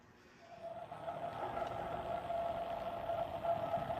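A Blunami-equipped PRR GP7 three-rail model train locomotive gives off a steady electronic whine from its motor control switching, rising gradually in level over a soft rumbling hum, with no sound effects or talking.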